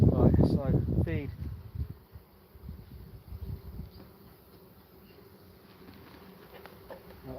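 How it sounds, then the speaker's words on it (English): Honeybees fan their wings at a beehive, giving a low, steady hum. A person talks over the opening seconds, and the buzzing carries on alone and softer afterward. "These bees are fanning."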